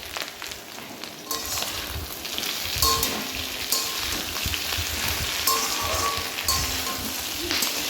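Drumstick stalks frying with salt in a pan, a close steady sizzle and crackle with occasional clinks and scrapes of stirring.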